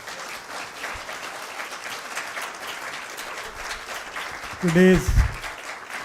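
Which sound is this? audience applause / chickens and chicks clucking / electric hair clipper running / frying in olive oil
audience applause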